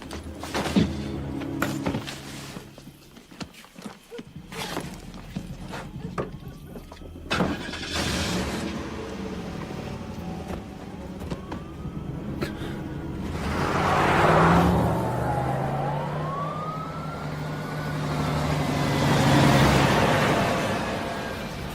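A car starts up and pulls away, its engine rising and whooshing past in two swells before fading, with door and movement sounds early on and no talking.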